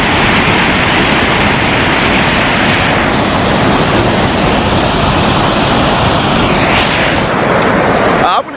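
Poi waterfall in central Thailand pours over a very rocky riverbed, a loud, steady, broadband roar of rushing water that holds constant throughout before cutting off abruptly at the end.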